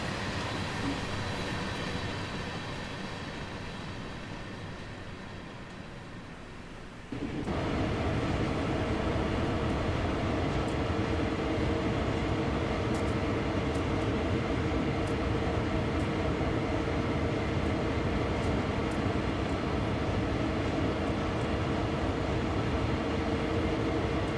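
Simulated freight train in Train Sim World 2 rolls along the line at about 53 mph on the way to the Cane Creek branch, a steady rumbling wheel-and-rail drone that jumps louder partway through and carries on with faint clicks.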